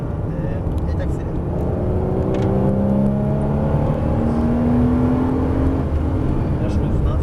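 Porsche Cayman S accelerating on the Dreux racing circuit, its engine note climbing steadily in pitch through a sustained rev build, loud and continuous, heard from inside the car with a voice talking over it.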